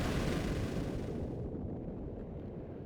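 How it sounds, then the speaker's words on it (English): A deep, roaring explosion from an engine blowing up in a Final Fantasy video game, with a broad rumble that stays loud through the clip while the bright crackle fades about halfway, leaving a low, sustained boom. "The engine's exploding."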